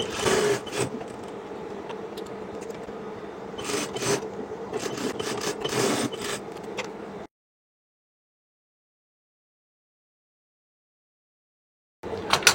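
A sewing machine runs a basting stitch around the neckline of a lined georgette kameez, a steady mechanical whir with bursts of faster stitching for about seven seconds, then silence before it starts again at the end.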